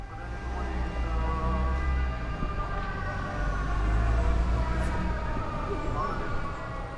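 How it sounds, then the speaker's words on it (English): A wailing air raid siren rises and falls across a Ukrainian city, layered over a dense, rumbling background with faint voices and amplified church prayers. "we were greeted by the first air siren of the trip"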